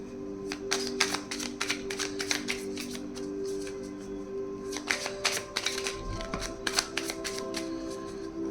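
Tarot cards shuffled by hand in close, rapid bursts of riffling and flicking, with short pauses between bursts and a faint steady hum underneath.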